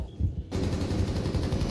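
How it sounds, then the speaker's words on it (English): An SMG 11 fires in Rainbow Six Siege. After a brief quiet start, a rapid, loud burst of automatic fire carries on steadily to the end, with no speech. "Oh, I shot that man so much. I'm bad with this fucking SMG 11."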